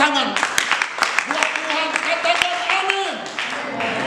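A church congregation claps together during a sermon while people speak and sing loudly over the top, with the applause forming a busy, rhythmic bed under the voices.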